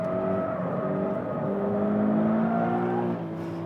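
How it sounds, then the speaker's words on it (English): A Toyota rear-wheel-drive car lapping the Nordschleife, its engine droning steadily with rising and falling harmonic pitch as it accelerates and shifts, loud and continuous from onboard with no talking. "Let's jump on board for one lap of the Nordschleife."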